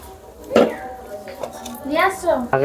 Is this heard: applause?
no